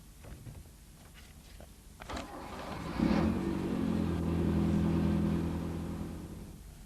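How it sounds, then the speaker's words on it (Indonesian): A Toyota car engine with electronic fuel injection cranks and catches after some light clicks, then settles into a steady, close idle that hums on for several seconds with no talking. "Pertama-tama kita start mesin."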